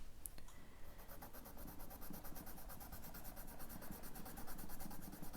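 A Bic watercolour pencil pressed hard against paper while colouring, giving a faint, continuous scratchy rubbing of lead on the sheet, close and quiet.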